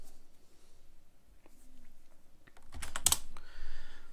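A few soft computer keyboard keystrokes are followed by a louder cluster of key taps, ending like a command being entered in a Linux terminal, close and quiet with no talking.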